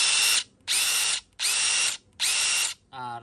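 A DeWalt DCF850 impact driver runs in four loud, close bursts of roughly half a second each, with short pauses between them, followed by a brief quieter whir at the end.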